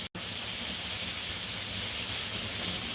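Steak sizzles in a pan with a steady, loud broadband hiss that runs unbroken for the whole clip after a brief gap at the very start.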